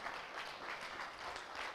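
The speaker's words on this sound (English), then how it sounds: "So one last round of applause for everybody." A town hall audience applauds new residents, a soft, even patter of many hands clapping at a distance, quiet and continuous throughout.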